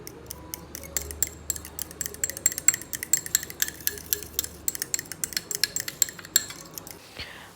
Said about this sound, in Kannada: ಒಂದು ಸ್ವಲ್ಪ ಖಾರದ ಪುಡಿ, ಒಂದು ಅರ್ಧ ಚಮಚಿ ಜೀರಿಗೆ ಪುಡಿ ಮತ್ತು ಒಂದಿಟ್ಟು ಅರಿಶಿನ ಮತ್ತು ಧನಿಯಾ ಪೌಡರ್ ಇವು 4 ಹಾಕಿ ಚಲೋತ್ತಂಗೆ ಅದು ಮಿಕ್ಸ್ ಮಾಡ್ಕೊತೇನೆ